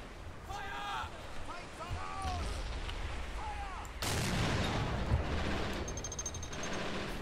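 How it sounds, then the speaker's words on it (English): A German 88 gun fires during a D-Day beach defense battle in the Men of War: Assault Squad 2 game, a heavy boom near the middle among continuous battle noise, with other shots and a voice in the background. "we're firing the 88 right now"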